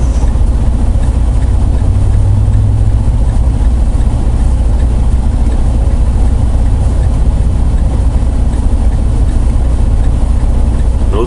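A car engine drones at a loud, steady level from inside the vehicle while driving and swinging wide through a turn, with a low rumble and no clear talk.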